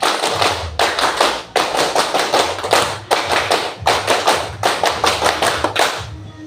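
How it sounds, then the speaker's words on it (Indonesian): Indonesian scout clap performed twice in a row by a class of students, patterned bursts of sharp group claps and desk-like thumps repeating in a steady rhythm, near and loud, with no talking. "Tepuk pramuka 2 kali."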